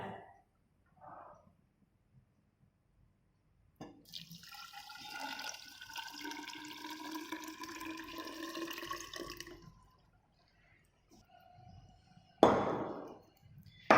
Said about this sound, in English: 100 grams of soil we put in the measuring cylinder and put 200 ml of water